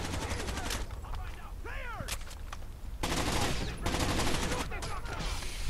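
Sustained automatic gunfire rattles through a Rainbow Six Vegas 2 firefight, loud and continuous, with whizzing and ricochet-like sweeps in between and a heavier burst toward the end.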